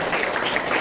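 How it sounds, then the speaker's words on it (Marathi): A short, loud burst of crowd applause at a village Home Minister Khel Paithanicha prize event. Dense, even clapping from many people sounds close and continuous. "जोरदार टाळ्या श्रुती कदम यांच्यासाठी."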